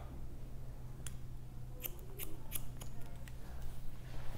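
Scissors snipping through a man's hair during a men's scissor-over-comb cut at the back toward the nape, heard as several soft, crisp snips close by over a steady low hum.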